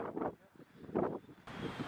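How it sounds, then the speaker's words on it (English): Gusty outdoor wind in Ohio buffets the microphone in low rumbling bursts, rising and falling in surges, with a brief burst of voices talking underneath. "It's pretty windy here in Ohio."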